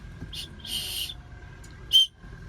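A short, bright whistle blast from a tactical watch's built-in whistle rings out near the end, preceded by a couple of fainter whistle-like chirps over quiet background.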